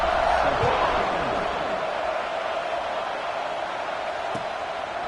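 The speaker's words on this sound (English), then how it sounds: "this crowd is buzzing after that last score" A football stadium crowd buzzes after a touchdown at a Tennessee versus Alabama game, a broad steady roar in the distance under a commentator's voice.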